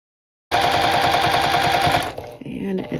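A sewing machine stitches rapidly along a hood edge in one continuous close, loud run lasting about a second and a half, then stops, followed by faint handling noise.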